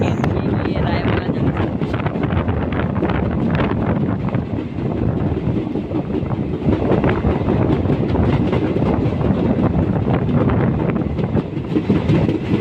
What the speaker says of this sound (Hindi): हमारी ट्रेन स्किप कर दिया हर्रा वाला। यहाँ पे हमारी ट्रेन का स्टॉप नहीं है।